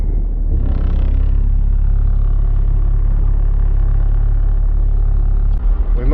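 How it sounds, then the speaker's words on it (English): Cars idling and creeping in a city traffic jam, a steady loud low engine rumble that fills the whole stretch with no clear breaks. "We must be in the city now, because we're in a traffic jam."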